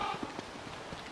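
A Beefalo walks in the survival video game Don't Starve: soft, evenly spaced hoof thuds sit under a constant hissing wash of in-game ambience.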